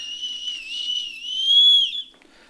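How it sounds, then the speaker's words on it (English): A survival kit whistle is blown in one sustained, piercing shrill tone lasting about two seconds, swelling louder toward the end before cutting off, close and clear with no talking. "So this one, it has just another whistle."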